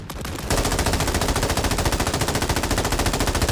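Rapid automatic gunfire in Warzone, a dense, loud, evenly paced burst starting about half a second in and continuing without pause to the end.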